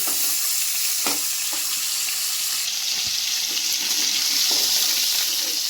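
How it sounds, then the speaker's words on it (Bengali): Steady crackling sizzle of fish frying in hot oil, close and continuous, with a few light clinks and no talking. "আমি এখন মাছ ভাজাগুলো আমি তুলে নিচ্ছি।"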